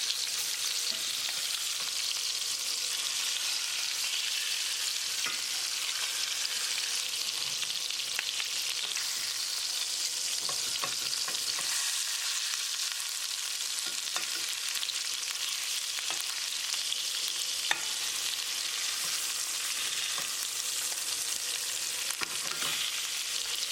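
Flipped salmon steaks frying in a pan, a constant fine sizzle and crackle at moderate level throughout, with occasional small clicks of a spatula and no talking.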